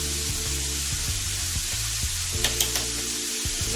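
Fish sizzles steadily as it fries in hot vegetable oil in a pan. The crackle is continuous and close, with a few louder pops and spatters partway through and some low clatter from handling. No one speaks.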